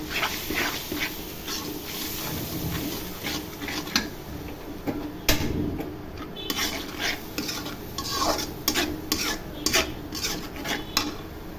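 A utensil stirs turmeric, chili, coriander and salt with a splash of water in a frying pan. Repeated metallic clinks and scrapes sound over a soft sizzle in an irregular rhythm.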